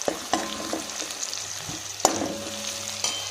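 Ingredients for egg curry frying in a pan, continuous sizzling with occasional sharp clinks and stirring knocks of a utensil against the pan.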